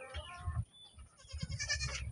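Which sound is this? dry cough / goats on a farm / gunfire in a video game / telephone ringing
goats on a farm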